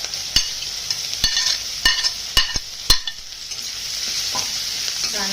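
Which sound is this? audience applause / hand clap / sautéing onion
sautéing onion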